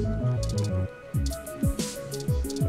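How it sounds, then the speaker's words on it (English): Milk splattering and dripping down a glass screen in the video game 2064: Read Only Memories, heard as a string of wet, squishy blooping drips with gliding, falling pitches, clear and close, with no talking. "The milk would just splatter and drip down the glass screen."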